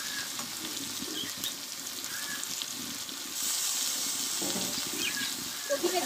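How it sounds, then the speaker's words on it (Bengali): Chopped cauliflower dropped into a hot frying pan with oil and green chilies, a steady close sizzle with stirring clatter that swells louder partway through. "এবার কেটে রাখা কপিগুলোকে আমি দিয়ে দেবো।"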